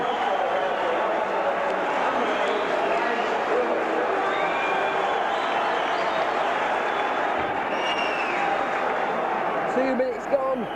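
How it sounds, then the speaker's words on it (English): A large stadium crowd of Warrington rugby league fans roars and cheers after a try in a championship final against Halifax, a sustained loud swell with whistles and shouts, mixed with commentary. "it's the Warrington fans who are starting to cheer first"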